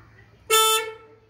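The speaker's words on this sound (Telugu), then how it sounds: "కొట్టాన హార్న్." A tractor's horn gives one short, loud, close honk that fades quickly over a quiet engine background.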